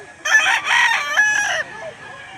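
A rooster crows loudly and close by at a chicken market in Lipa, Batangas, one long strained call with a tapering finish.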